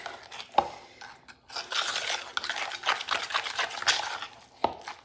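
Deviled egg yolk filling with paprika being stirred in a bowl, soft repeated scraping and clicking of a utensil, close and fairly quiet, with no voices.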